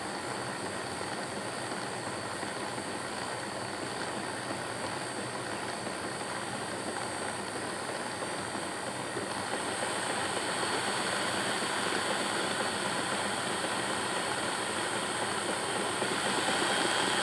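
Mantua 0-4-0 model train locomotive running at low throttle, a steady faint mechanical whir and hum that grows slightly louder partway through, with no talk.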